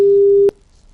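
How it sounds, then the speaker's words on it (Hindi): A phone's busy tone after a call is cut off: one steady, loud electronic beep lasting about half a second, ending abruptly, followed by near silence. "ये आपको एक आवाज सुनवाई अभी सुनाई दी होगी कि जिस तरीके से फोन काट कर गए हैं"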